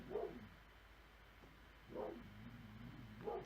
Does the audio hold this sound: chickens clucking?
no